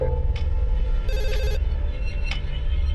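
A telephone rings in a short electronic burst at a police station amid a low background hum, with a couple of faint clicks before and after.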